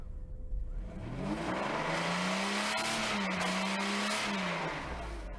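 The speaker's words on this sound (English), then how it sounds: "Okay, so right now I'm gonna let it die. Nope. Went right to idle." A Mercedes W140 with a V12 engine that has a broken fuel line runs steadily at idle, giving a loud, continuous engine hum with a slight rise and dip in pitch, and no talk over it.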